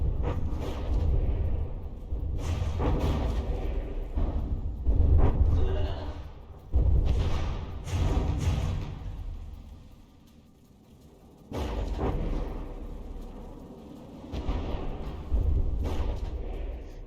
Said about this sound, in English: getting pounded by explosions, the explosions would just kind of tip it over